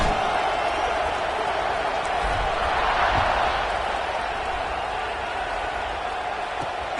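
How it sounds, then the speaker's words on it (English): Stadium crowd noise from a college football video game, Wisconsin versus Texas, a steady loud roar and buzz of fans holding constant throughout, with no voices clearly standing out. "this crowd is buzzing after that last score"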